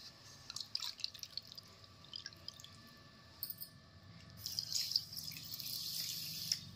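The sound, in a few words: water poured into sugar for syrup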